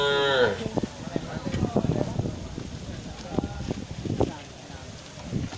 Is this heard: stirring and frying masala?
no